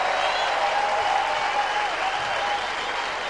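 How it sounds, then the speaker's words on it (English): A tennis crowd at a final in Los Angeles rises in a standing ovation, steady loud applause and clapping filling the whole stretch without a break. "And this crowd now on its feet, a standing ovation for both players,"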